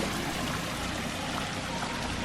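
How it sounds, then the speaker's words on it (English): A garden waterfall and stream by a pool spill steadily over stone, giving a constant, dense rush of splashing water that stays even and unbroken throughout. "Love this waterfall."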